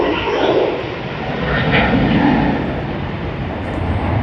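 A Qantas QF59 airliner bound for Tokyo Haneda rotates on takeoff at Sydney Airport, its engines giving a steady, broad roar at mid distance that swells slightly and holds throughout.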